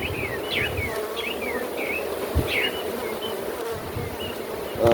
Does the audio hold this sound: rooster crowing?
no